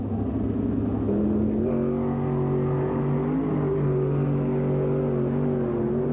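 A drag racing car's engine at the NMRA event at Pomona in 1991 drones steadily and loudly, its pitch stepping up and holding as the throttle sticks open, with no talk.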